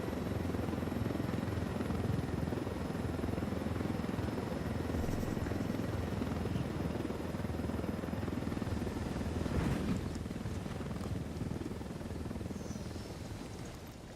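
A helicopter in the video game Ghost Recon Wildlands sets down on a plateau, its rotor beating as a steady, loud, dense whir that holds for over ten seconds and then eases slightly.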